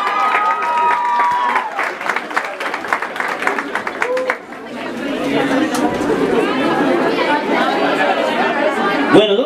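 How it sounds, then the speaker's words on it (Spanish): Audience clapping at a youth mariachi performance for a Women's Day event, bursts of applause mixed with lively crowd chatter and voices, followed by loud talk and commotion. "Ese aplauso bonito."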